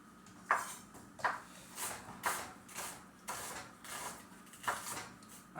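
A knife chops onions on a cutting board in a home kitchen, giving about seven fairly even, moderately loud strikes spaced roughly a second apart, with no talking.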